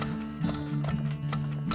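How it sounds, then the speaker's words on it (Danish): Game horses clip-clop in a steady, repeated hoof rhythm with a faint whinny, set against a droning music bed in the Turmoil oil-drilling game, with no one talking. "Nu har vi 20 heste."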